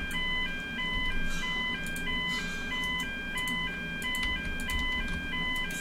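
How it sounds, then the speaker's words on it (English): A fire alarm in the emergency-services game Emergency 4 sounds as a repeating two-tone electronic alert, alternating high and low pitches in a steady loop, moderately loud over a low background rumble. "And what a surprise, another fire alarm."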